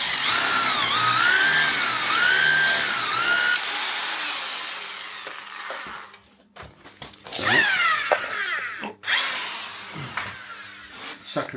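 A power drill whines in a rising and falling pitch as it bores into a Honda Monkey 125 wheel, then stops and restarts in short bursts, with clicks and clatter between runs, close by.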